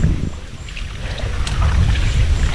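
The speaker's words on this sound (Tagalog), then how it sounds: "Malakas pa rin ang hangin mga idol" Strong wind buffets the microphone outdoors with steady low roaring gusts, rising toward the end, and no voices.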